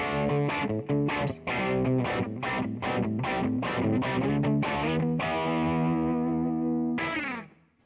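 Epiphone Les Paul electric guitar on its bridge pickup through an amp, distorted and effected, played as a quick run of loud plucked notes and chords ending on a sustained chord that rings out, with no talk.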